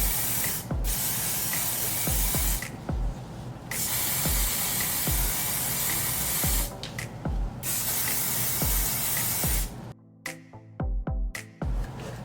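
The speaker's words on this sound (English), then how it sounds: "Now I'll use this Dollar Tree hairspray to seal the glitter." Dollar Tree hairspray sprays in repeated loud bursts over glittered craft books, each hiss preceded by the click of the nozzle, with short pauses between sprays.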